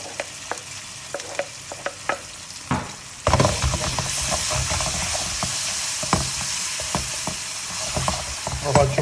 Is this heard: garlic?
yes